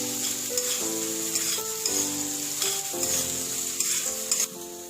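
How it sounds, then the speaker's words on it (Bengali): Chopped ginger, onion and curry leaves lightly frying in a pan for Rajasthani panchmel dal give a steady close sizzle, with scraping stirs at regular intervals and no voices. "এবার সবকিছু হালকা করে ভেজে নেব।"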